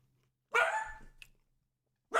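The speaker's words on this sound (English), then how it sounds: "Oh, dog." One short, sharp dog bark rings out nearby after a moment of quiet, and a second bark begins just as the sound ends, with no voices.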